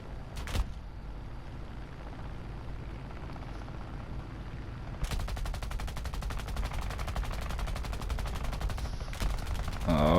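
Rapid aircraft gunfire in the War Thunder air battle game, a brief early burst, then a long continuous rattling stream of shots, loud and sustained until the end.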